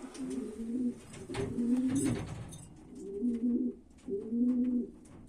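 Homing pigeons in a loft coo in four or five close, rounded, throaty phrases with short pauses between, clear and unaccompanied by any voice.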